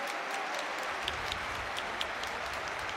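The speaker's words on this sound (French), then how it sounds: "Et le public de l'Estadi de Montjuïc qui se lève hein, pour applaudir la sortie du soldat, du guerrier de 18 ans, Pau Kubarsi." A stadium crowd at Estadi de Montjuïc applauds a young football player leaving the pitch as a substitute during a Barcelona versus Real Madrid match, a steady, dense wash of clapping with no clear voices above it.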